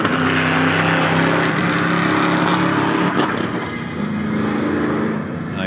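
A supercharged Chevrolet Camaro at a drag strip runs loud and sustained with a strong steady engine drone that dips slightly partway through, heard from nearby.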